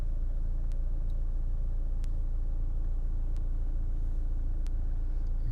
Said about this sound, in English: engine's running for this section